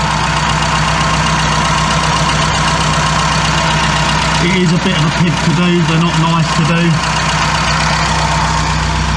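A classic Mini engine idles steadily after an exhaust manifold clamp repair, an even low drone running throughout while someone talks over it partway.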